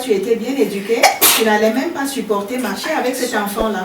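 A single abrupt sneeze bursts out in the middle of steady French speech by a man addressing a group about young people's attitude.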